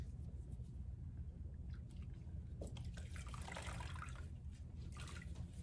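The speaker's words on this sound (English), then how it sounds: "I'm going to take my last washcloth and get it wet" A washcloth is dipped and wrung in a basin of water, giving quiet trickles and drips that grow busier midway, close up over a low steady background hum.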